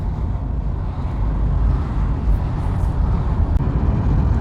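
An Australian Ford car driving along a road through Pyle, its steady engine drone and tyre rumble heavy and continuous from inside the cabin, with no voices.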